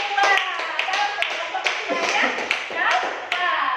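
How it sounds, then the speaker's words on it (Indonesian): Classroom applause for a student group, a small group of pupils clapping with distinct, uneven sharp claps and a few louder taps, fairly close and bright, with occasional voices mixed in. "Kasih tepuk tangan untuk kelompok 2"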